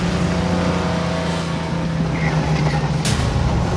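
A heavy truck engine drones and strains continuously at low pitch while driving through a deep outback bog, rising briefly near the end, with no voices.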